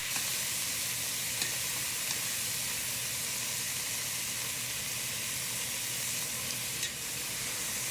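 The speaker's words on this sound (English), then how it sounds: "I will be cooking the meat in batch because I want it nice and brown." Country style ribs sizzle steadily in hot olive oil in a big pan, a continuous loud frying hiss with occasional crackles and no voices.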